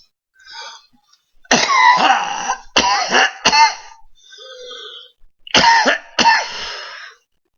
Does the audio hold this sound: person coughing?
yes